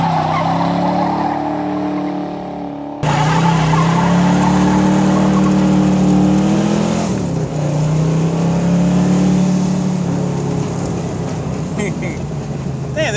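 A 1984 Ford Mustang GT350 on a test drive, its engine droning loudly and steadily from inside the car, with a jump in intensity after a few seconds and a rising surge of acceleration partway through. Road and tire noise run underneath throughout.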